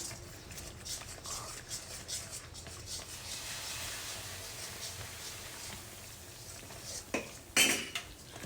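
Coconut Mysore pak mixture is stirred in a pan while more is poured in, giving soft scraping and rubbing strokes with light metal clinks and a louder clatter near the end.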